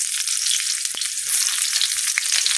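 Chopped onions fry steadily in a hot pan while making an egg bhujia, giving a continuous close, bright sizzling hiss with a few soft pops and no voices.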